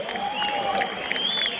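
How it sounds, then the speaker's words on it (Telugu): Audience clapping in a crowded business seminar hall, a dense continuous patter of many hands mixed with crowd noise and some whistle-like tones, moderately loud and sustained. "చప్పట్లు చప్పట్లు కరో"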